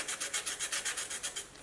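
Charcoal stick rubbed sideways across sandpaper for drawing, making about ten rhythmic rasping strokes, close and steady, with the last strokes fading softer.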